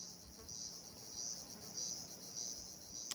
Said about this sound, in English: Even crickets are agreeing with me.